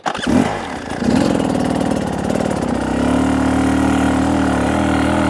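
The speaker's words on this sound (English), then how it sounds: "you can start the engine and play on the uphill" An enduro dirt bike engine starts with a sputter, then settles into a steady, close, buzzing idle that runs continuously.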